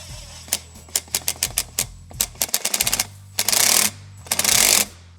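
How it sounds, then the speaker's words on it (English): Ratchet with a 10mm socket tightening a clamp on a silicone intake coupler of a C7 Audi A6/A7, quick clicking runs of the pawl in short bursts, followed by two longer rasping spins, close up with no speech. "Just going to use our 10mm socket again."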